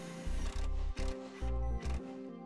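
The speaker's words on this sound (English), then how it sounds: "We'll use a self-tapping screw to make our attachment." A self-tapping screw is driven into the bodywork of a 2011 Toyota RAV4 by a power driver, giving loud, close whirring bursts in short pulses with brief pauses between.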